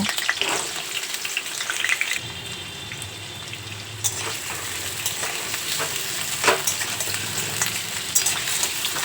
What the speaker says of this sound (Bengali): এরপর ওই একই তেলে আলুগুলো দিয়ে আলুগুলো লাল লাল করে ভেজে নেব